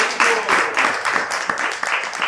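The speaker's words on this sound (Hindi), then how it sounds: "ताली बजाओ सब इनके लिए।" An audience claps during a spiritual discourse, a loud, fairly close burst of applause with rhythmic swells of many hands clapping together, continuing steadily through the clip.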